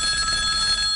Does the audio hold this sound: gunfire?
no